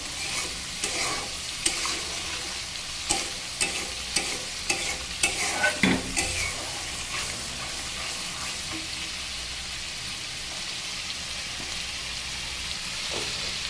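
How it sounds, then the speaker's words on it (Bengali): Ash gourd leaves being stir-fried in a pan give a steady close sizzle, with repeated scraping stirs and knocks of the spatula in the first half before it settles into even frying. "এবার এটাকে নাড়াচাড়া দিয়ে একটু ভালো করে ভেজে নেব।"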